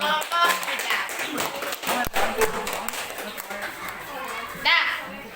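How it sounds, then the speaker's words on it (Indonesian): An audience claps for a group's presentation at an academic supervision coaching session, lively scattered applause with cheering voices mixed in, continuous for several seconds. "Oke, berikan aplaus untuk kelompok 3."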